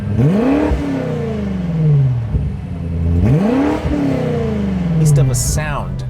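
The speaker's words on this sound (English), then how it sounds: "you open up the flaps and you have a beast of a sound" BMW M5 Competition engine revving hard with exhaust flaps open, two rising and falling roars in quick succession, loud and close, with a brief crackle at the end.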